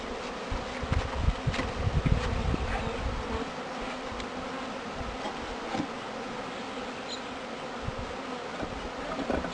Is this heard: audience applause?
no